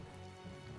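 Steady rain hisses as a dense, even wash of droplets in the Tales of Vesperia video game, filling the brief moment without any talk.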